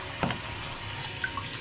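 Cold tap water runs steadily into a sink for hand washing, a soft continuous splashing stream, fairly quiet, with a few small clinks and no talking.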